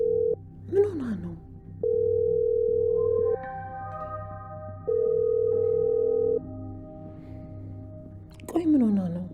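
Phone ringing tone on an unanswered call, with long steady electronic tones separated by silent gaps, two rings clearly heard, and a voice speaking briefly at the start and end.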